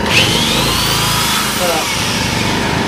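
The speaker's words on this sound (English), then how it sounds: "you might hear the engine kick in and go higher" A Yamaha EF1000is portable generator engine drones loudly and steadily under a drill's load, its pitch holding high, with a faint whine over the roar.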